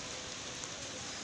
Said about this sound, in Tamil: இது பாருங்க, நல்லா மழை பெய்யுது.